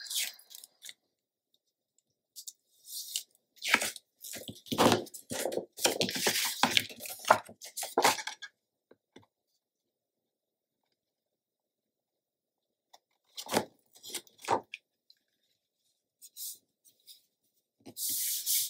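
Paper being scored with a tool for a Graphic 45 Nutcracker pocket, heard as close scraping and rubbing strokes in two bursts with silent gaps between them.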